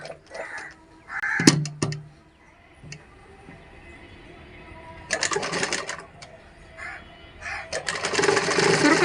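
Sewing machine stitching pleats into a skirt sewn from a sari, short whirring runs of stitching that start and stop, with crows cawing nearby in between.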